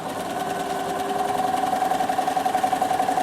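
A sewing machine stitches fabric for a pouch, a steady close mechanical hum with a rapid pulsing rhythm that grows slightly louder as it runs.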